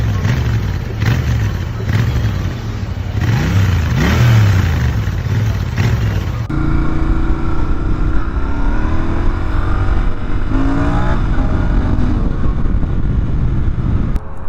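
A Royal Enfield Interceptor 650 motorcycle accelerates hard on a test ride, its engine climbing through the revs with a steady loud drone and shifting pitch under heavy wind rush.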